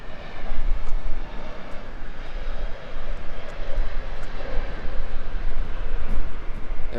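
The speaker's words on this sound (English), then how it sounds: "There goes Spirit A320neo." A Spirit Airlines Airbus A320neo takes off at Tampa International Airport, its engines making a loud, steady, rumbling roar with a broad rushing hiss that carries throughout.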